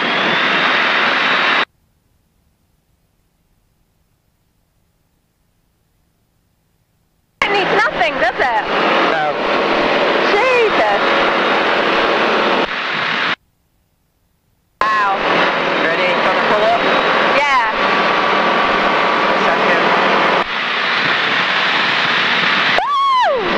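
A light aircraft's engine roars steadily and loudly during takeoff from runway 06, the drone cutting out twice for several seconds before resuming at full strength.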